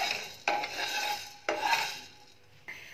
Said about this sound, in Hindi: अब मैंने ऐड की है काली मिर्च, इसको भी हम कुछ सेकंड्स के लिए भूनेंगे